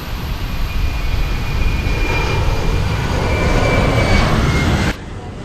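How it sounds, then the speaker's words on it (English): An Airbus A320 jet engine starting on the ground hums and builds with a steady rising whine and broad roar, then cuts off abruptly near the end. "Starting engine 2."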